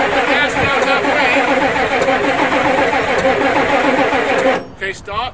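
A diesel Ford truck engine cranks loudly and close with a steady, rhythmic churn for about four and a half seconds, then cuts off, leaving a few brief knocks and near silence.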